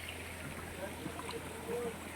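A hidden stream by the freshwater falls in Baras, Rizal gives a steady, quiet rush of flowing water, with a faint voice now and then.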